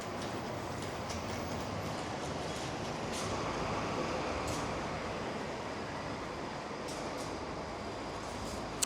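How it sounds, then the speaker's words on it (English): Tama monorail train rumbling steadily for the whole stretch, a broad, even roar with faint clicks and squeals over it, continuous and fairly close, no voices. "This is the end of line for the monorail"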